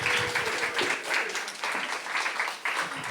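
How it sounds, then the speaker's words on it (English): An audience at a cultural conference applauds panelists, a dense burst of clapping that swells and dips over a few seconds. "Can we have a round of applause for these panelists?"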